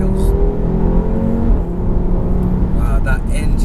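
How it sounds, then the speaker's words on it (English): An APR-tuned 440 BHP Audi RS3 engine drones and revs with a steady, rising tone from inside the car while people talk over it. "wow, that engine is just epic, isn't it?"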